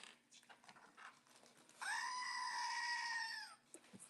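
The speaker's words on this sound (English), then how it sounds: "Scream that goat." A goat screams in a long, loud, wavering bleat lasting nearly two seconds, coming after quieter crowd murmur and clatter at a Disney pin trading event.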